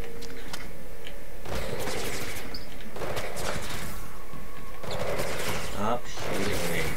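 Gunfire in the Mirror's Edge Catalyst video game, dense rapid bursts of automatic shots coming in loud clusters over a constant, busy game background, with a voice talking briefly.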